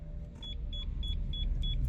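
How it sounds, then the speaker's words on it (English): Five short, high electronic bleeps at an even pace from a StarLine Pro security system on a 2022 Porsche Macan, over a low, steady engine-like rumble. "We hear 5 bleeps, now it's ready for a new code."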